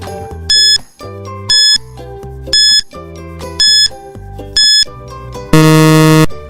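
Quiz countdown timer tune ticks along in a regular electronic pattern with a repeating chime each second, then ends in a loud, sustained buzzer blast.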